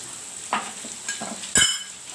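Spices such as garam masala, cumin, coriander, pepper and red chilli powder roasting in a pan for a paneer roll filling, with a few short scrapes and one sharp clack of a spatula against the pan.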